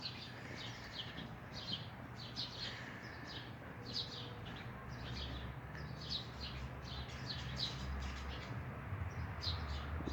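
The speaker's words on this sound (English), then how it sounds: "You hear the birds in the background absorbing in nature as it raises the frequencies." Small birds outdoors chirp and tweet in repeated quick high bursts, faint and somewhat distant, over a steady low background hum and rustle with no talking.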